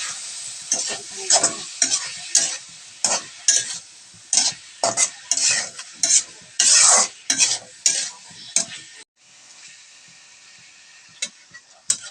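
Potatoes and fish frying together in a pan while being stirred: loud bursts of sizzling and scraping come in regular strokes, then ease to a quieter, steady sizzle, with no talk.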